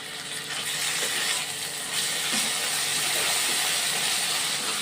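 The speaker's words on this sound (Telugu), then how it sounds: "ఇప్పుడు కొద్దిగా అల్లం వెల్లుల్లి పేస్ట్ వేసుకుందాం" Ginger garlic paste fries in a hot pan with a dense, steady hiss and sizzle, loud and close, holding evenly for several seconds without speech.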